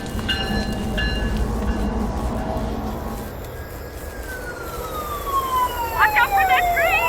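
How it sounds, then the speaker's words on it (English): A train in Minecraft passes by amid a loud, dense rumble, with a rising-and-falling siren-like whistle tone sweeping across the latter half. "Watch out for that train!"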